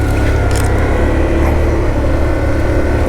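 A Can-Am Outlander 1000 XMR ATV engine held at high, steady revs on a winter mud run, a loud, continuous drone with no talk over it.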